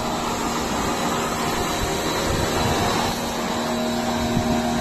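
Bajaj Dominar 400 motorcycle being washed, with a steady, loud spraying hiss over a constant droning hum that carries on unbroken from start to finish.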